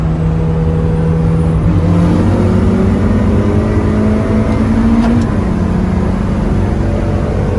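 A turbocharged Mazda Miata with a stock 1.8 engine accelerates hard from a 60 mph roll, engine note climbing loudly and continuously from inside the car before a brief shift and a renewed pull.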